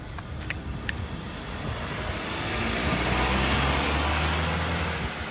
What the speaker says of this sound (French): Désolé pour le bruit des camions